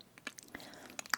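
Strawberry cream cake being bitten and chewed up close, with a few soft, sparse crunchy bites and moist chewing clicks spread over a quiet moment, no talking.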